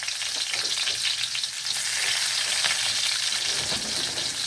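Onion hits hot oil in a pan of browning chicken feet, a loud continuous sizzle and crackle filling the space close by, with faint stirring and no talk.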